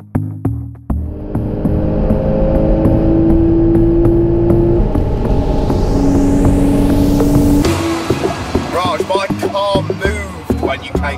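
A car accelerates hard, its engine note climbing loud and sustained through the gears for several seconds before it eases off, with people talking at the start and the end.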